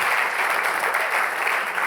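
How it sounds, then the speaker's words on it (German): A church congregation applauding loudly, a dense unbroken roar of clapping that stays steady and full throughout. "Geben wir ihnen einen richtig lauten Applaus aus dem Kaufen raus."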